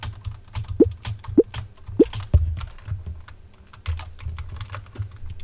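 Keys on a computer keyboard are tapped in irregular bursts while a simple game is steered with WASD and the arrow keys, crisp close clicks over a low background hum.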